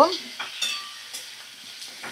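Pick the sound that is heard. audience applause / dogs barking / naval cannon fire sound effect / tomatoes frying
tomatoes frying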